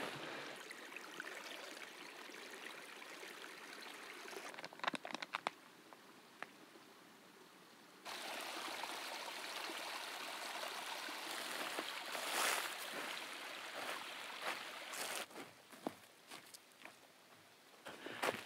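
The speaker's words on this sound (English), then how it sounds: "A heavily forested canyon like this, flowing creek." A creek flows through a heavily forested canyon in Nevada's Great Basin, a continuous soft rushing and trickling of water, with faint rustles and a few brief knocks near the listener.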